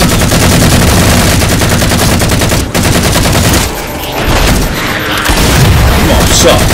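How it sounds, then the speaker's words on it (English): Loud, nearly continuous machine-gun fire and booming shots from the Halo 4 co-op campaign keep pounding close up, dipping briefly partway through before the rapid fire picks up again. "let's just shoot this guy."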